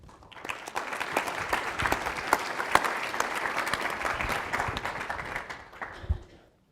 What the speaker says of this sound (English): please give a warm applause to Sean Kidney.